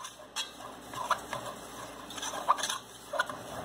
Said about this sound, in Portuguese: Vai mexendo aí, ó.